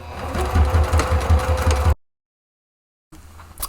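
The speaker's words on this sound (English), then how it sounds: "we're going to reinforce the handle now with a row of stitching about 1/4 inch in from each side." A sewing machine stitches a fabric basket handle in a close, rapid, rhythmic run of needle thumps. It stops abruptly and falls silent, then starts again briefly.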